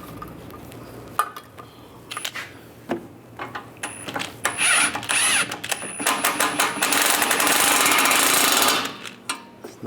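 Metallic ratcheting and clanking as a new nut is run down onto the strut bolt of a 1998-2010 Volkswagen Beetle during a strut and spring assembly replacement, in short bursts then a longer steady run, close and fairly loud.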